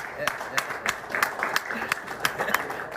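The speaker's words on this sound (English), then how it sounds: "Aryeh is cheering the loudest" An audience applauding, scattered claps forming a steady, moderately loud patter with occasional sharper hand strikes, with people talking over it.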